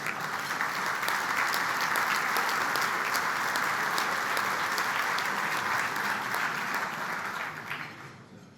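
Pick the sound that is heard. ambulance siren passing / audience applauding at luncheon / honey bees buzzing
audience applauding at luncheon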